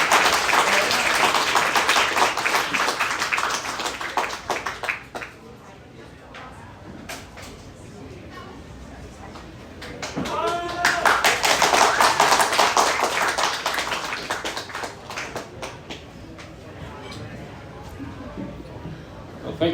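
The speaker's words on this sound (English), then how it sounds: "Please, everyone, give him a round of applause." Audience applause at a new student reading at the Globe, two waves of clapping, the first fading after about five seconds and a second swelling near ten seconds, with scattered claps and faint voices between.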